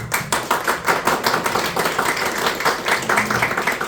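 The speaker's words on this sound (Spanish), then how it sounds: "Un gran aplauso para don Matías Erani." Steady clapping from a small crowd, brisk and continuous throughout, fairly close with an uneven rhythm.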